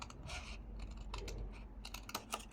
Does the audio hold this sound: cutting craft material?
yes